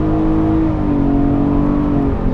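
A 2016 Infiniti QX60 3.5 AWD with a CVT accelerates hard, its engine drone loud and steady from inside the cabin, the pitch rising and then stepping down as the transmission mimics an upshift.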